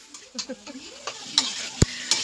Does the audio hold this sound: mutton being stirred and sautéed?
yes